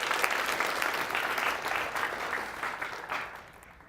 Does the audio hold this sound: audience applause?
yes